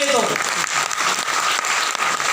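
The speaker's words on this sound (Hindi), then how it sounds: "उनके लिए जोरदार तालियां होनी चाहिए पहले तो" Audience applause, a dense, steady burst of clapping at close range right after a brief voice at the start, holding loud for a couple of seconds.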